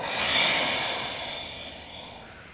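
A deep, airy exhale during a yoga forward fold swells and then slowly fades, soft and close with no talking.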